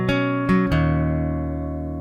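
An electric or acoustic guitar plays a short phrase from a song: three quick plucked notes, then a chord left ringing and slowly fading.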